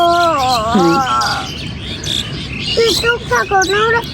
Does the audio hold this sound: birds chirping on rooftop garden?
yes